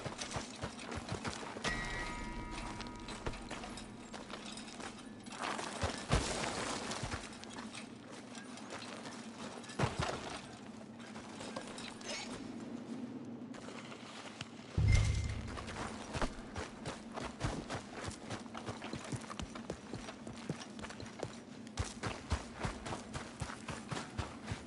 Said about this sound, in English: Get out of here, horse.